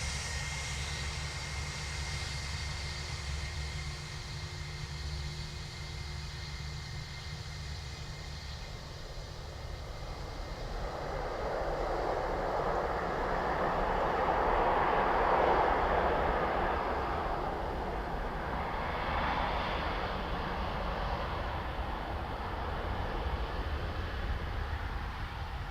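A Ryanair airliner at Dublin Airport, its engine roar swelling gradually from a distant hum to a broad, loud rumble midway, then easing slightly while staying steady.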